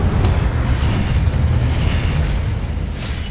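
The Incendio fire spell is cast in Hogwarts Legacy on Xbox Series S, a dense roaring whoosh of flame that holds loud and steady throughout with no voices.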